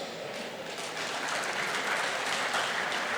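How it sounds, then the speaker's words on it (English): Sustained audience applause fills a public lecture hall at a democracy anniversary celebration in Nigeria, a dense, steady clatter of many hands clapping at close range with no talk over it. "I think we owe him, if he is here, a rousing applause."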